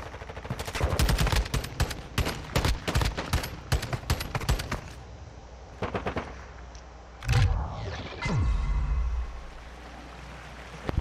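Rapid bursts of automatic gunfire from a first-person shooter match, loud and close, in a dense volley over several seconds, then a few isolated shots and a whooshing effect.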